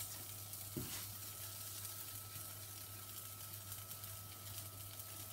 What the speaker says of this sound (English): I have my frying pan sprayed with Frylight and my cakes